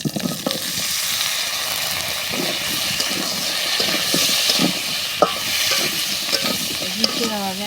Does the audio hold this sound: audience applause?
no